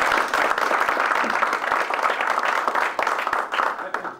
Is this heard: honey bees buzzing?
no